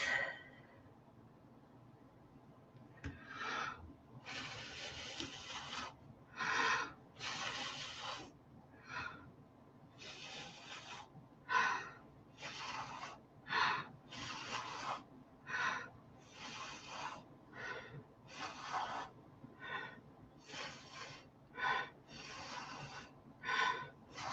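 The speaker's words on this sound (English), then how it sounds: "let's bust out the straw. Take a deep breath." Repeated bursts of breathy air blown hard through a straw across paint on paper, each puff a few seconds apart with short pauses for breath, close and fairly loud.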